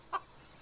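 A single short cluck from a chicken, one faint, quick note standing alone against quiet background hiss.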